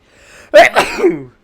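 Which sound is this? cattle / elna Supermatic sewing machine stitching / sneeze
sneeze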